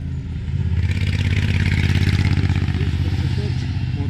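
Motorcycle engines passing on a road in Austria's Styria and Lower Austria countryside, a loud steady mid-pitched roar that swells in after a quiet start and holds close throughout.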